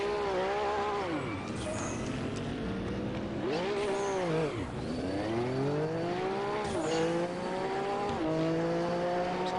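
A race car in the RaceRoom racing game spins out, its engine wailing through rising and falling revs with tire squeal, loud and continuous throughout with no talk over it.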